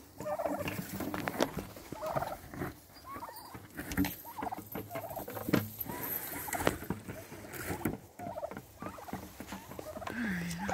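Several turkeys gobble and chatter close by amid rustling and pattering movement, with no talking.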